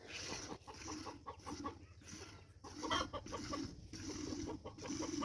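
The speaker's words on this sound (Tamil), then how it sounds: "3 கொடாப்புலேயும் கோழி தாங்க போட்டு அடைச்சி வச்சுருக்கோம்" Many chickens shut in village farm coops cluck steadily at close range, a constant layered chorus with no pauses.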